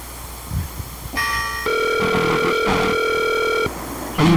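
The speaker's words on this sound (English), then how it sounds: "I'm trying to call Ben in Laos" Telephone ringback tones on a call to someone in Laos, steady electronic ringing bursts with a faint voice murmur before and after, close and clear.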